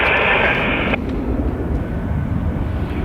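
Jet airliner engine roar during departure at Dublin Airport, a loud steady broadband rumble with a bright whine that cuts off abruptly, leaving a lower continuous drone; faint voices are heard underneath.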